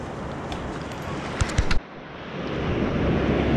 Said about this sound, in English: the waves are rolling in good over that bar now